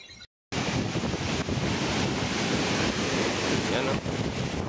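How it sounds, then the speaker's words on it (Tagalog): Strong typhoon wind roars with crashing sea waves, a loud continuous broadband rush after a brief silent gap, with heavy wind buffeting the microphone throughout. "grabe, ang lakas na itong bagyo na to."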